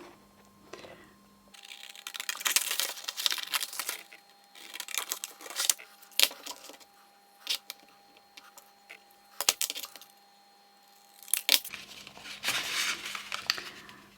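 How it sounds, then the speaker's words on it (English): Paper being cut out by hand for card making, with a run of soft snipping and crinkling bursts close by, separated by brief pauses. "So I'm going to cut this out now."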